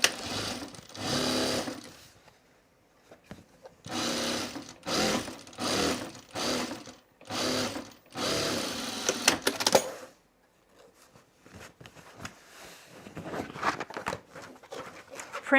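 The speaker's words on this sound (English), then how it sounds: "this just gets sewn right sides together along the long edge." A sewing machine stitches the long edge of a bag's back document pocket, right sides together, in several close, steady bursts separated by short pauses, followed by quieter handling noises.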